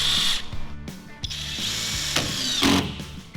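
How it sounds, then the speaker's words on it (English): A power drill whirs in short bursts as it drives screws down into wood, loud and close, with sharp stops between runs and a ratcheting clutch sound near the end. "Starting to screw this down."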